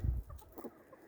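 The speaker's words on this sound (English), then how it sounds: "There's one chicken eating a really big potato." A hen clucks softly in short, faint bursts while eating a big potato on a farm, with a low thump at the start and no voices.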